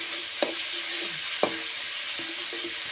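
Chicken meat frying in a pan with spices, a soft steady sizzle broken by a few distinct scrapes and clicks of stirring, close and moderately quiet, with no voices.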